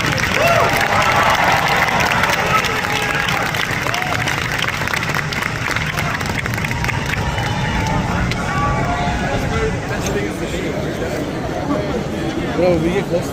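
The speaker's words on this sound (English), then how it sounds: "Let's have a round of applause." Applause from a crowd at an LA Comic Con 2022 panel, a dense steady patter filling the hall for several seconds, with background chatter and crowd hubbub mixed in.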